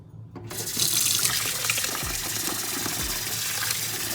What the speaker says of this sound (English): I think I'm gonna add a little more water to it.